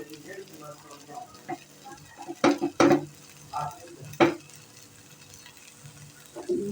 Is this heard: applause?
no